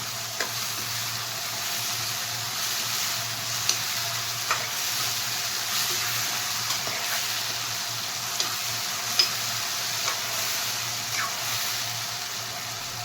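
Ridge gourd curry fries in a pan with chopped tomato added: a steady soft sizzle runs throughout, broken by occasional light clicks and taps of a spoon stirring.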